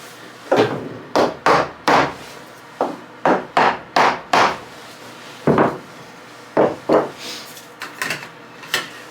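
A series of hard knocks, hammer-like blows on metal shelf tubing being forced together, struck in uneven bursts with short pauses between, loud and close.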